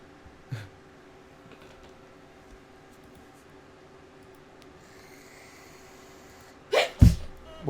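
A person sneezes sharply and loudly near the end, after a small earlier burst, over a quiet room hum with faint background noise.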